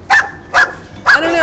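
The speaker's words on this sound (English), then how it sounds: "we should leave because the dogs are upset" Several dogs bark in three sharp bursts at a Skid Row street protest in Los Angeles during the 2012 Occupy encampment, loud and fairly close with short gaps between them.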